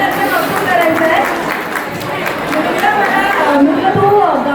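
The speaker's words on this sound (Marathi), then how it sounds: "तुमच्या सगळ्यांनी जोरदार टाळ्या वाजवून त्यांचं कौतुक करायचं आहे" An audience applauds a performing brother and sister at a 50th anniversary celebration, steady clapping mixed with crowd chatter and a voice speaking over it.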